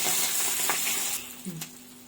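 Hot-oil tempering (talimpu) hisses loudly, then fades over about two seconds, with a couple of light clinks near the end.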